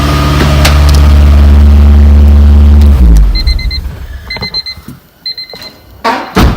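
Engine-swapped Honda EM1 running in a garage with a loud, steady low rumble that cuts off abruptly about halfway through, followed by quiet ticking and faint clicks as it winds down.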